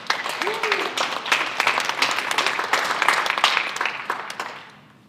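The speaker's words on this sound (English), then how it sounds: "Let's give her another round of applause." Audience applause at a high school national signing day ceremony, a burst of scattered clapping with voices talking and cheering over it, thinning and fading out near the end.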